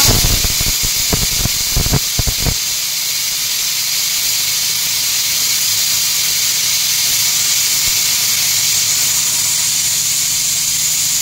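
A pressure cooker lets off a loud, continuous hiss of escaping steam. A few sharp knocks come at the start, and then the steam keeps rushing without a break.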